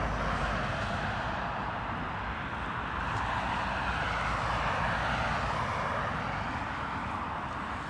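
Heavy aircraft at Dublin Airport on an early morning with a crosswind: a continuous, fairly distant jet engine rumble and roar holds steady throughout, with no voices.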